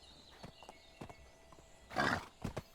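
A horse in the video game Medieval Dynasty, with a few soft thuds and then a loud, breathy snort or whinny burst, followed by another short snort nearby.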